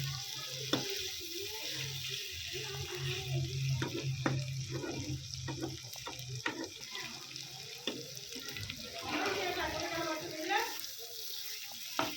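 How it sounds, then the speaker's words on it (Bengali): Chicken fries and sizzles in a kadai while being stirred, a steady hiss with scraping and clinking of the spoon against the pan, close and continuous, with faint speech in the background. "ভালো করে নেড়ে আমরা এটা লাল লাল করে ভেজে নেব।"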